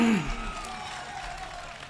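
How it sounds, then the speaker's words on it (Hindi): An audience at an Indian mushaira poetry gathering applauds after a brief bit of voice, a soft, diffuse wash of clapping that gradually thins out. "तालियां अपने लिए बजा दें।"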